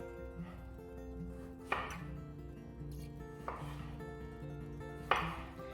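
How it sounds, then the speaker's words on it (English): A knife strikes a wooden board while finely cubing onion, landing three separate, crisp chops spaced well apart over steady background music. "with the onion, finely cube that"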